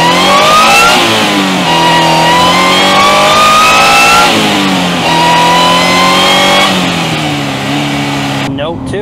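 Supercharged car engine with a Sprintex supercharger, running stock clutch on 91 octane, revs hard on a dyno, pitch climbing and dropping in repeated pulls, loud and continuous, with a voice talking over it.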